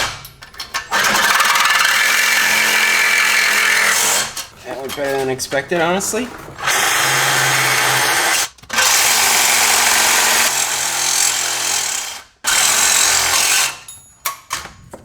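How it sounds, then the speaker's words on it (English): A loud power tool cuts the exhaust bolts on a Porsche 944 in long, harsh grinding bursts broken by brief gaps, and someone speaks briefly between cuts. "cutting those 3 bolts to get the exhaust out of the way."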